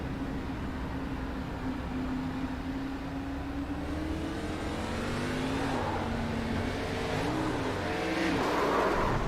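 An ARCA race car engine drones steadily in a racing game, a loud continuous roar that rises and shifts in pitch as the car accelerates, with no talk over it.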